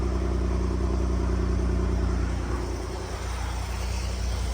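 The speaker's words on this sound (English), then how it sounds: "The exhaust is really nothing to write home about." A car exhaust idles after a cold start, recorded up close underneath the car as a steady throbbing, slightly clattery engine pulse that dips briefly before settling again.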